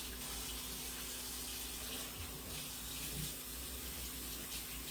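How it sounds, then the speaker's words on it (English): Tap water runs steadily into a sink while hands are washed in a home kitchen during canning, a continuous broadband rush with an underlying hum and no break. "Gotta wash my hands there."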